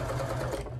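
A sewing machine stitches a tote bag made from a placemat, sewing along marked lines. It gives a short, steady, close whir that stays even for under a second, with no talking.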